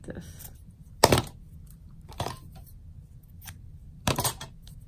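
Scissors snipping through a tag, giving a few sharp, separate cuts spaced a second or two apart, close and crisp against a quiet room.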